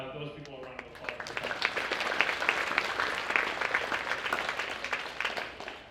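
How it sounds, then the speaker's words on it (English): A crowd claps at a school eighth-grade awards ceremony, sustained dense applause throughout, fairly loud and even, with a voice fading out at the start. "So give him, those people, a round of applause."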